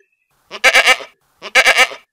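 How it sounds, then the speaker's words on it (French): Goat bleating twice as a sound effect in a spoken fairy tale, two loud, wavering, nasal cries close up, each about half a second long, separated by a short silence. "Hurla la chèvre en décampant à toute allure."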